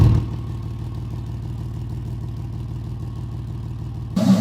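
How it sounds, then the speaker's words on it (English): A steady, low car engine and exhaust rumble idles close by for several seconds, with the exhaust whooshing or hissing, then cuts off abruptly before a short burst of louder noise. "Whooshing or hissing from the exhaust."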